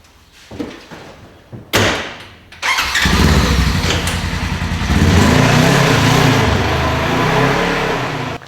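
Buggy engine cranking and starting after a couple of door-like thumps, then settling into a loud, steady idle that rises slightly midway, close by.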